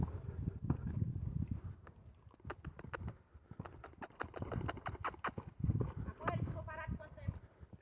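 A horse being asked to step backward during ground training resumed after five months without riding, its hooves giving a series of light clip-clop steps under steady talk, with a few bird calls nearby.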